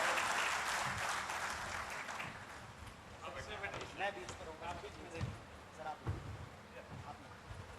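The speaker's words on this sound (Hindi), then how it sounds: "जोरदार तालियां चाहिए मुझे" Applause from an audience at a live televised public debate in Surguja is heard, strong at first and then thinning out, followed by scattered thumps and voices talking.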